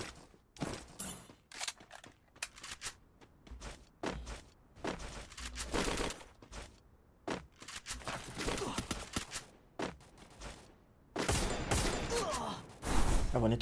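Rapid bursts of video game gunfire crackle in uneven volleys and single shots, some loud and close, others quieter, with brief gaps between exchanges and no talk over them.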